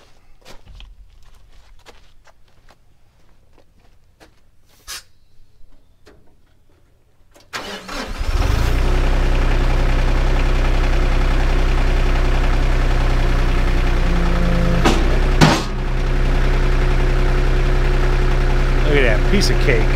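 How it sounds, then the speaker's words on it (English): Footsteps and handling noises on a quiet site, then a semi truck tractor engine cranks and catches with a loud roar and settles into a steady, heavy idle that runs close by to the end, with a brief louder bump partway through. "I'm gonna turn the tractor on. It's getting a little noisy here."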